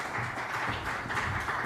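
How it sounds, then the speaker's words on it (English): An audience at a fintech exhibition claps in a brief, continuous burst of many hands, soft and roomy, with no voices over it. "Please, let's give them a hand of applause."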